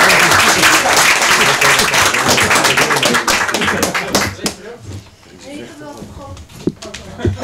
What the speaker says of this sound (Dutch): Mag je dan een applaus voor Cecilia Meijnert?